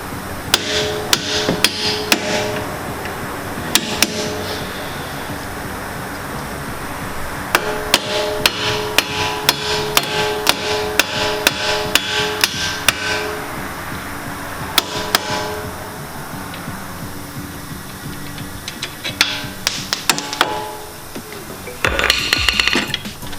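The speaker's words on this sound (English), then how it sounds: "we're just going to hammer the end of it" Sharp hammer strikes ring out in bursts, some rapid and some spaced apart, hitting a bolt end on the suspension of a 2017 Chevrolet Camaro SS 1LE, with clanking metallic impacts and no talking.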